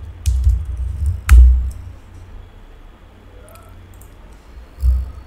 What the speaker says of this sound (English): Type here Hotstar